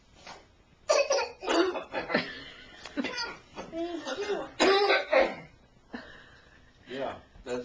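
An adult and a child take turns faking coughs and clearing their throats in a playful game, with repeated rough bursts mixed with giggles and laughter. Some talk is heard between the bursts.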